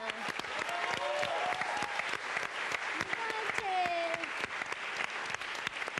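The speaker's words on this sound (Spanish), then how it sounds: "pido en serio un aplauso" Studio audience at a Televisa television talk show breaks into sustained clapping that fills the whole stretch, with a brief shouted exclamation and a few voices cutting through the applause.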